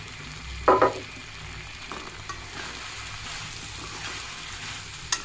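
Taki fish going into a pan of melted tomatoes, with a brief burst of sizzle and stirring clatter near the start, then a low steady frying hiss and a small clink at the end.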